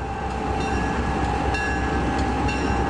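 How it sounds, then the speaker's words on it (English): A southbound freight train arrives behind EMD and GE diesel locomotives, producing a steady, loud rumble of engines and rolling wagons with faint clicking wheels throughout, heard from nearby at a trackside tower. "a southbound freight arrives behind EMD and GE Power"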